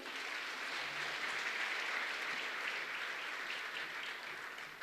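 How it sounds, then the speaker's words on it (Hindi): An auditorium of students at the SATI Vidisha induction program inaugural ceremony applauds, a steady wash of many hands clapping together, heard quietly and somewhat distant, holding even for several seconds before easing slightly. "तो अपने लिए एक बार आप ज़ोरदार तालियां बजाएं"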